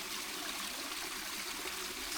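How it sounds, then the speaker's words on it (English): Stream water trickles and flows steadily near the Lake District's Ennerdale Water as it is filtered through a portable water filter, a soft continuous burbling wash at low level with no voices. "So time to go and filter some water right from the stream."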